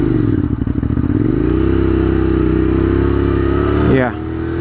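A motorcycle engine running on diesel fuel revs and accelerates roughly with a clattering, labored tone, loud and close, then cuts off near the end.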